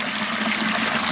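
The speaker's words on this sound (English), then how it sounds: "So we're gonna have to pour it through the filter." Yellowish lake water pours steadily through a filter, a close, continuous gushing rush of liquid with no voices.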